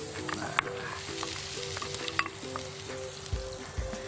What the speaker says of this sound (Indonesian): Yuk, kita akan menumis ya. Kita masukkan bawang bombay.